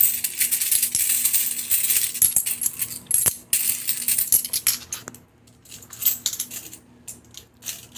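Coins from a piggy bank savings count clatter and clink in quick bursts, loud and close, as they tumble onto a surface. The jangling thins into sparse, scattered drops toward the end.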